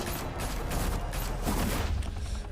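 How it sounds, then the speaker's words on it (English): A dense, rapid volley of gunfire from a Batman video game, with loud crackling shots and mechanical clatter running the whole time and no speech. "Open fire!"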